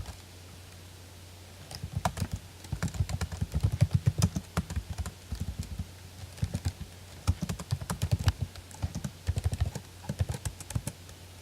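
Someone types at a computer keyboard while setting up a DNS server, a close, fairly quiet clatter of keystrokes in irregular bursts with short pauses over a low hum.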